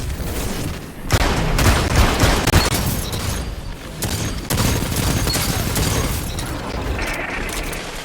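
Sustained weapon fire in the online shooter Destiny 2, a dense, continuous barrage of shots and booms with little letup across the whole stretch.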